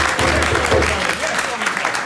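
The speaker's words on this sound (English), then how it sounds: "Can we give Uncle Errol a round of applause?" An audience at a mental health and suicide performance project claps for Uncle Errol, a brief burst of close applause thinning out after a second, with voices mixed in.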